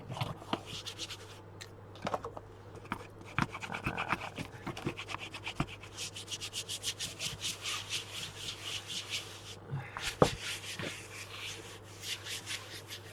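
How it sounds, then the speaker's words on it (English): Paper is rubbed firmly down onto a mini scrapbook album page, a long stretch of dry scratchy rubbing strokes up close, with occasional taps and a low steady hum underneath. "I'm going to just rub them back down so I can turn it over and really work this in."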